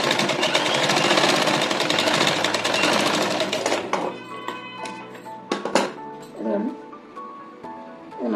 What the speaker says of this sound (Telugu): ఈ విధంగా ఇట్లా కుట్టేసుకోండి చివరికి.